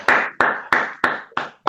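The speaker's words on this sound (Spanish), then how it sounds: "Bueno, primero te aplaudimos, ¿no?" A few people at an academic thesis defense give a short round of applause: six sharp, evenly spaced claps close to the microphone, with no talking.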